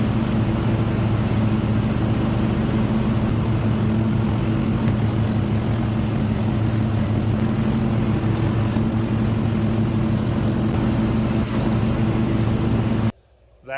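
A lawn mower engine running steadily and close, a constant droning hum with no talk, cutting off abruptly at the very end.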